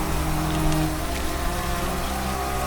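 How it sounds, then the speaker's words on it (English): Steady rain falling, heard as a constant dense hiss with a low rumbling undertone throughout, moderately soft and without voices. "And rain fell on the earth 40 days and 40 nights"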